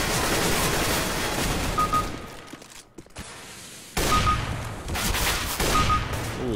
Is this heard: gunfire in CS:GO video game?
yes